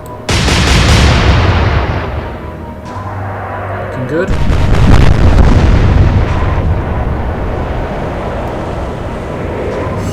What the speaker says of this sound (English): Huge explosion destroying the superstructure.